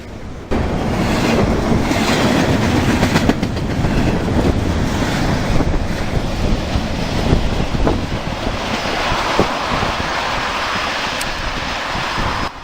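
A freight train on the New River Line in West Virginia rolls past close by, a loud, steady roar and rumble that holds for about twelve seconds with no talk.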